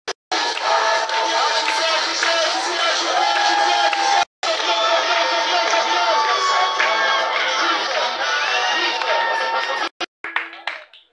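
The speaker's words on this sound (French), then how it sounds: "Bobo, Michel, David, sous vos acclamations." A crowd at a French community gathering cheers and claps loudly and steadily, with shouting voices and chatter, for about ten seconds, broken by a brief cut near the middle and fading toward the end.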